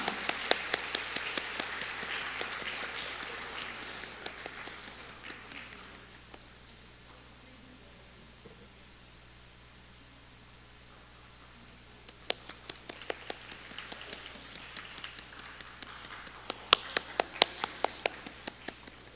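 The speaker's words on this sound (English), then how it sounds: "Please give a big round of applause for Jaynti Akka." An audience at an Arangetram, a classical Indian dance debut recital, applauds in a hall, with clapping fading away over several seconds, a quiet gap, then a fresh round of scattered claps rising again.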